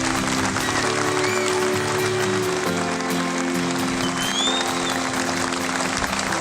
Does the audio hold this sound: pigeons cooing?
no